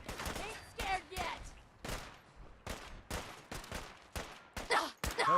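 Shots in the Fallout 4 video game, an intense run of sharp, clipped gunfire bursts landing in quick irregular succession, close and punchy, with no talk over them.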